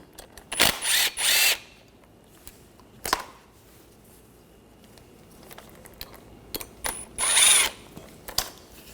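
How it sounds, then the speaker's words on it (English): A 7mm hex socket on a tool backs out the rear brake caliper bolts of a 2013-2019 Ford Escape, with a couple of short whirring bursts near the start and end and brief clicks in between, close and moderately loud, with no talking. "Using a 7mm hex socket. Take these out."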